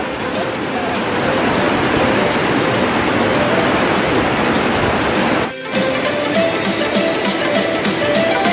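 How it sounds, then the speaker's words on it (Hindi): Floodwater of the Rukmavati river in Kutch rushes past after a night of heavy rain, a loud, steady broadband roar throughout with a brief dip midway. "देख सकते हैं कितना पानी जा रहा है पीछे से।"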